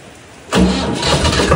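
A tractor engine cranks and catches abruptly, then settles into a loud, rough running note that begins to rise as it revs, close by and with no talk.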